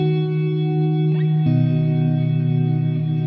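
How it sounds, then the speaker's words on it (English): Fender Hammertone Reverb pedal with shimmer engaged, sustained guitar chord swelling into a lush ambient tail, a second chord struck midway and ringing on with bright upper shimmer, steady and close, no talk. "So just to hit with the shimmer in, this is where we can kind of get our ambient kind of tones from"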